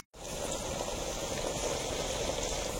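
Luchi, puffed fried bread, frying in hot oil, a steady dense sizzle and bubbling that starts abruptly and continues evenly at moderate loudness with no voices.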